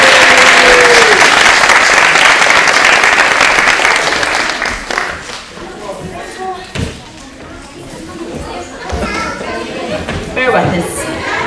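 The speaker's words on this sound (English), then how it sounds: "Can we get another wee round of applause?" Loud applause and cheering from an audience after a children's concert at a childcare group's annual meeting; the clapping fades out over several seconds into chatter from children and adults.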